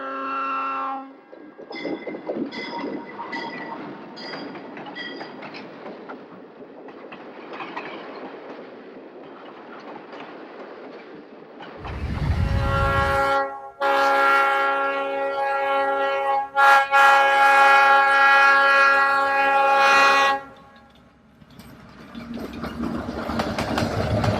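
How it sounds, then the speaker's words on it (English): Westbound Golden Gate passenger train number 61, led by a pair of ALCO PA diesel locomotives near Suisun Bay, with engine drone and horn blasts rising as it approaches, peaking loud, then fading. "Golden Gate train number 61 heads west behind a pair of ALCO PAs."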